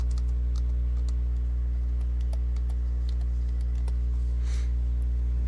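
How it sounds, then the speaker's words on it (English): Keyboard typing in a gaming video editing session: sparse, light clicks and taps spread across the span, fairly faint over a steady low electrical hum, no voices. "Down here we'll type in silage."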